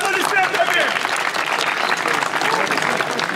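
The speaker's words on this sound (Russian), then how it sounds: "аплодисментами!" Audience applause for the winner of a street fight between a boxer and an MMA fighter, a dense, steady wash of clapping that fills the space loudly throughout, with voices mixed into the crowd.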